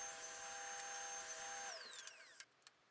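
A power drill whines at steady high speed boring a hole in 16mm melamine scrap, then winds down with a falling pitch and a few faint clicks afterward, close and alone.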